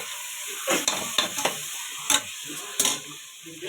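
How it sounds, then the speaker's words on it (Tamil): Tomatoes being sautéed in a pan for chicken biryani, a soft sizzle broken by several short scraping stirs of a spoon against the pan. "அப்புறம் வதக்குங்க."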